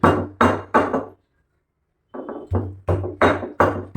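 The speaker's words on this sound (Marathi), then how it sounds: "आपण ही कणिक ठेचून ठेचून या खलबत्त्यामध्ये घ्यायची आहे" Dough is pounded in a new stone mortar and pestle in repeated heavy, dull thuds, three quick strikes then a pause before a steady run of further blows, close and loud.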